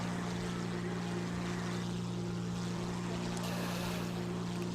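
Military aircraft engine at takeoff in War Thunder, a loud steady drone with strong low tonal hum and broad rushing noise, continuous and unbroken throughout.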